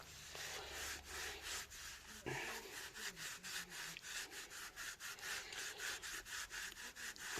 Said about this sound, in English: So give it a good scrub and a rub. Look at that. It's taking rust off